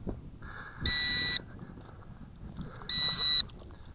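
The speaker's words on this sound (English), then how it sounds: "It's beeping." Two short electronic beeps from a Tarantula X6 drone transmitter, each about half a second, sounding a couple of seconds apart against a quiet background.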